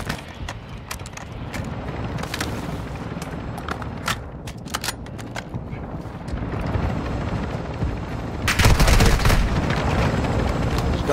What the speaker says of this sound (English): Get that chopper, brother, get out.